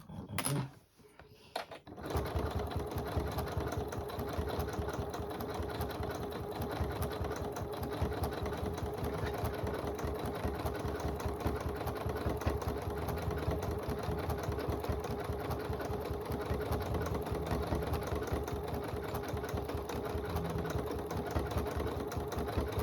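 A sewing machine running steadily as it stitches a quilted poinsettia table runner, a continuous near motor whir and needle chatter lasting throughout after a brief start.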